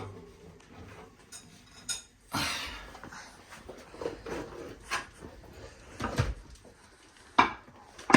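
Brownie pan lifted out of an oven, with a metallic clatter of the pan, a thump of the oven door and scattered small knocks and clinks in a quiet kitchen, close by and with no talk.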